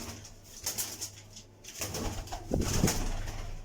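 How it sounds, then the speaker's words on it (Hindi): Pigeons at a loft with two young chicks, soft low cooing and rustling close by, growing a little louder toward the end with a couple of clearer coos. "ये कबूतर है और ये उनके दो बेबीज निकले हुए हैं"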